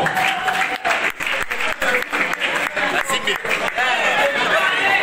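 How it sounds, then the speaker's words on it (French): An award ceremony audience claps for a female artist. The applause is loud and continuous, with uneven bursts, and chatter and light laughter run through it. "est-ce qu'on peut l'applaudir bien fort?"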